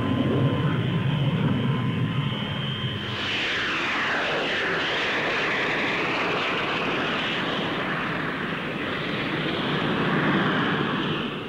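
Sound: Folland Gnat 1 lightweight fighter jet aircraft flying

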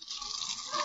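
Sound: water squirting from a gas stove, radio comedy effect

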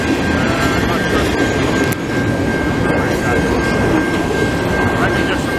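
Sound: long CP freight train passing through a level crossing

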